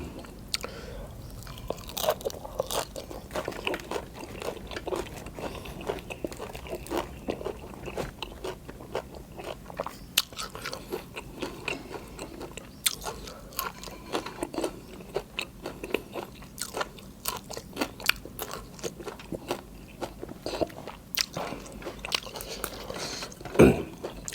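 Close, steady crunching and chewing of fresh raw vegetables eaten with a bamboo shoot dip, with constant wet bites and crisp snaps throughout, and no talking.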